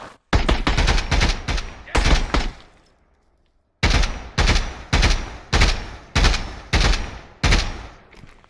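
Gunfire from the VR shooter ExfilZone on Quest 3: several loud, close bursts of rapid shots, a short pause, then a steady run of about seven evenly spaced bursts with no talking.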